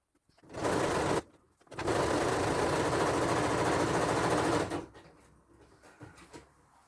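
A sewing machine runs loud and close stitching the side seams of a four-panel skirt, with a short burst, a brief pause, then a longer continuous whirring run before stopping into quiet handling noise.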